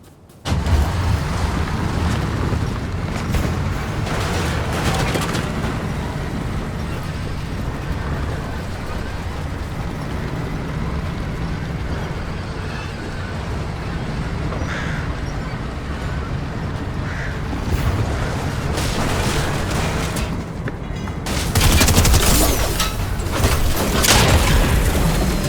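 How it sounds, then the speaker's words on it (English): Tank cannon blasts and rumbling treads in Fortnite Chapter 3 Season 2, a dense, loud, continuous roar of engine and gunfire with booming bursts, swelling near the end. "now we can get in the tank"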